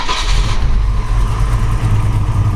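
A 1956 Ford F100 big-window pickup with a 351C V8 and K&N-style filter, fired up and running: a loud, close, steady low engine rumble with a brief higher whirr at the very start.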